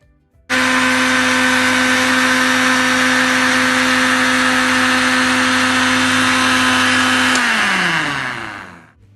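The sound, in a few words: mixer grinder blending milk for rose milk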